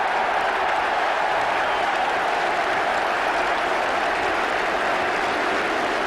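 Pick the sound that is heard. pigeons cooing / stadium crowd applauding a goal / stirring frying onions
stadium crowd applauding a goal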